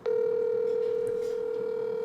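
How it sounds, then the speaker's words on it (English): A telephone rings out on a live call-in show, a single steady, loud tone sustained without a break and with no one speaking over it. "phone is ringing"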